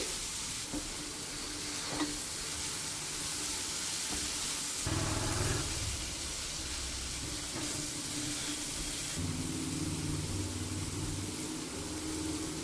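Tomatoes sizzle and fry in a pan of spiced oil while cooking down for a mushroom gravy, a steady close hiss with occasional stirring scrapes and no talk.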